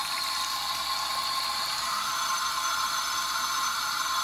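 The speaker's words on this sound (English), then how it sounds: "We're going to rinse with the direction that the rods were rolled, and we're going to use warm water with low pressure." Warm water runs at low pressure while a men's perm is rinsed out, following the direction the rods were rolled. It makes a steady, even hiss of spray that holds close and constant throughout, with no talking.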